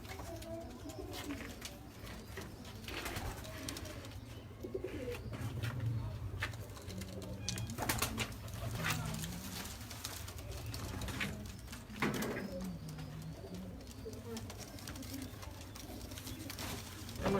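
Breeder pigeons coo softly and repeatedly in a home coop, with low murmuring calls overlapping throughout amid light background noise.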